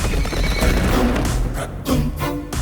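A horse whinnies loudly in a film scene, its neigh rising over steady galloping hooves and dense soundtrack, the call repeating across the short span.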